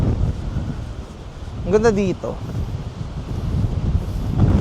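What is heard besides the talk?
strong wind blowing on the microphone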